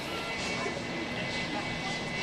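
An Embraer Praetor 600 business jet operated by FlexJet, arriving from Malta at London City Airport, gives a steady, loud broadband jet roar through the whole stretch, with some voice likely present under it.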